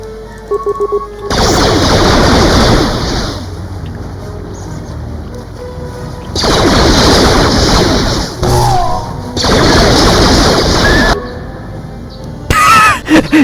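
Bursts of rapid automatic gunfire from a video-game gun rattle loudly in long sustained volleys, separated by brief pauses, with a faint tone or two between bursts.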